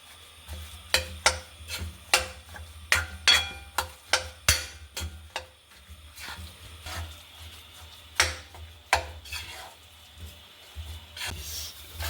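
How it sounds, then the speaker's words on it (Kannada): Jackfruit is stirred with jaggery in a pan on the stove, with a spoon repeatedly scraping and clinking against the metal in irregular, close strokes over a low steady hum. "ಇದನ್ನು ಚೂರು ಸರಿ ಮಗ್ಚ್ಕೊಂಬ, ಒಂಚೂರು ಪಾಕ ಬರುವಷ್ಟು."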